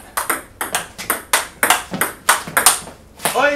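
A table tennis ball is struck with a racket fitted with V>15 Extra rubber, about a dozen crisp, hollow pops in a quick, even rally rhythm, close and clear.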